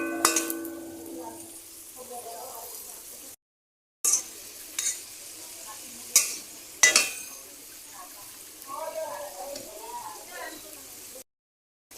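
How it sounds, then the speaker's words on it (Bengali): Aloo paratha frying in a pan, with a soft steady sizzle broken by scraping and clinking of a utensil against the pan, several short gaps of silence, and background talk at moderate level. "এরকম করে সব পরোটাগুলো আমি ভেজে নেব"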